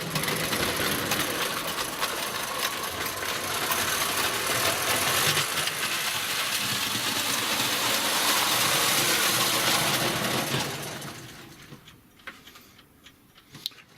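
An old 1950s-style wind-up clockwork model train runs after its spring has been wound, giving a steady, close whirring buzz of the mechanism for about eleven seconds before it winds down and fades, followed by a few faint clicks.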